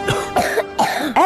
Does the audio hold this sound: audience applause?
no